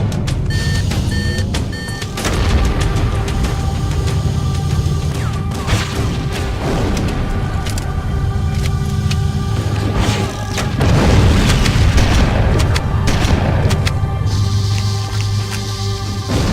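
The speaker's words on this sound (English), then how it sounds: "Use explosives on the other 3 reactors. That should be enough to trigger a wildcat explosion of the engines." Explosives blow up fusion reactors in Halo: Combat Evolved, with heavy booms rolling into a continuous deep rumble and crashing debris. A louder surge of blasts hits toward the end over a constant machine hum.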